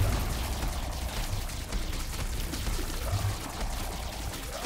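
Holy Water item in The Binding of Isaac: Repentance, a continuous splashing, pouring water effect heard loud and close, with dense game noise and no voice.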